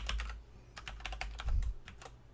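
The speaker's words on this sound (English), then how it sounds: "So let me just type it in" Someone types a wallet password on a computer keyboard, a close run of quick, uneven key clicks in small bursts, heard alone.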